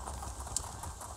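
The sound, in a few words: horse hooves while riding in Elder Scrolls Online video game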